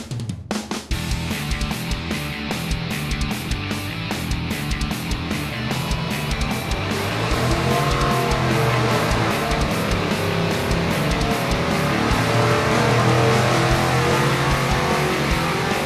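A naturally aspirated LS7-based 454 V8, built by World Products as a Warhawk engine, roars steadily and loudly on a dyno, holding a dense, sustained drone whose tone climbs gradually through the run, with no talk.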